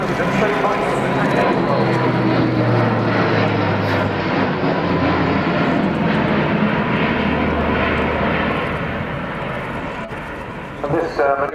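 An Airbus A400M military transport aircraft performs a flying display at RIAT 2018, and its turboprop engines give a loud, continuous propeller roar throughout the clip that fades slightly near the end as it passes.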